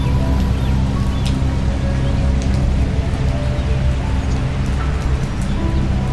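Steady rain falls outside a poor family's home in an animated Hindi moral story, a dense continuous hiss with patter and low rumbling, loud and even throughout with no talk.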